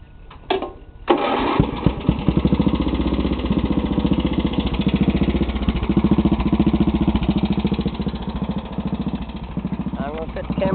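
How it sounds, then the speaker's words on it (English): A racing lawn mower engine fitted with a bike-style throttle cranks over briefly, then catches and runs at a steady, throbbing idle, loud and close, with someone talking over it. "So I'll crank it up and set it down, and I'll show you how it runs."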